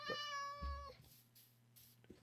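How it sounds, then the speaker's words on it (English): A cat in the Minecraft video game lets out one clear, drawn-out meow, followed by a few faint scattered clicks and soft noises, with no talking. "I don't know where that cat is trapped"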